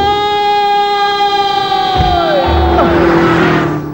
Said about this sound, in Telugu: హార్న్ ఏంటండి బాబు, సైరన్నే కొట్టాడు.